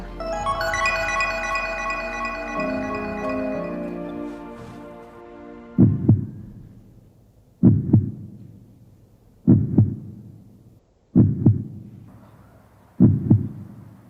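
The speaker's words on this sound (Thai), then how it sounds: "เป็นไงได้ยินเสียงหัวใจฉันไหม" A heartbeat sound effect in a Thai short film: a sustained hum fades out and then deep lub-dub thumps come in pairs, five strong beats spaced evenly about every second and a half, loud and close.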